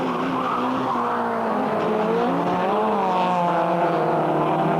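Citroen rallycross cars race at the 1999 European Rallycross round in Finland. Engines drone loudly without a break as revs rise and fall, and tyres scrub and squeal close by.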